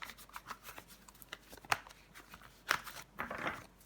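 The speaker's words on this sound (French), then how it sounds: "Je vais recouvrir les cartes." Tarot cards are covered and handled on a table, with soft papery shuffling and sliding, a couple of sharp card snaps, close and fairly quiet.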